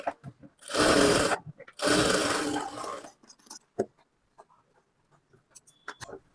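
Two sustained runs of a sewing machine sound up close, laying a double stitch while a blouse is turned into a frock, followed by scattered light clicks and handling sounds.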